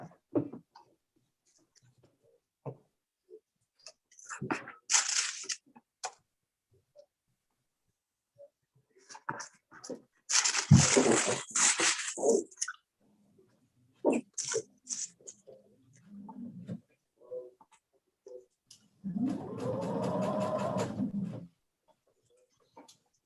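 A sewing machine stitches two layers of fabric in a beginners' dressmaking class, with scattered quiet clicks and handling noises before one steady motorized run of about two seconds near the end.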